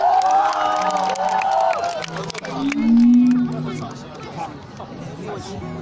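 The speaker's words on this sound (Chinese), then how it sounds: "再给他一个掌声加尖叫" A group at a campsite cheers and screams for a school principal, with high shrieks and shouts over lively chatter, loud at first and then settling into busy talk.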